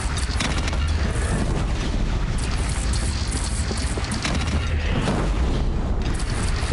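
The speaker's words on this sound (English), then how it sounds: "They only have one cannon!" Bandit cannon blasting in the video game Horizon Zero Dawn, dense repeated booming shots in rapid succession over a constant rumbling din of battle.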